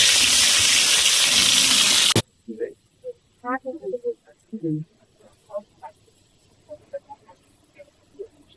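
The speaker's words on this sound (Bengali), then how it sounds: "এখন ভাজা চলছে শঙ্কর মাছ।" Pieces of shankar fish (stingray), rubbed with turmeric and salt, hit a hot pan with a loud, dense sizzle that cuts off abruptly after about two seconds, followed by people talking over a quiet background.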